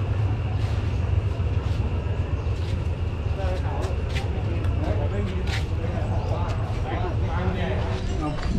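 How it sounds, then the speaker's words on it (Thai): A train pulling out of a station in Kanchanaburi, Thailand, its steady low rumble and clacking rolling continuously and fairly loud, with someone talking over the noise. "รถไฟออกไปแล้วครับ"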